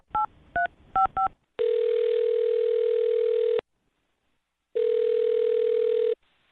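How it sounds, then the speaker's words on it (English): A phone number is keyed in on a telephone keypad during a radio show call: four quick dialing beeps, then two long, loud steady ringback tones separated by a silent gap. "I'll dial her phone number right now and see if we can figure it out"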